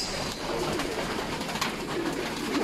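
Racing pigeon hens in a loft cooing softly and continuously, several birds murmuring together at close range over a steady low background.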